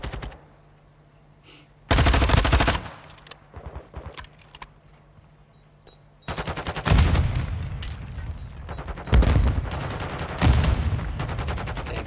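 Bursts of automatic and single-shot gunfire from Call of Duty: Modern Warfare II during a close-range esports gunfight, loud and sharp, coming in several separated volleys over quieter game ambience.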